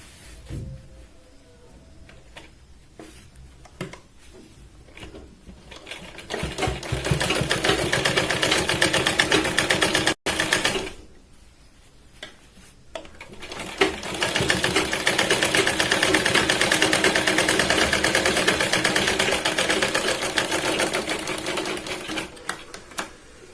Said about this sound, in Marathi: आपण हिला बाहेरच्या साईडने सुद्धा एकदा शिलाई लावून घेतोय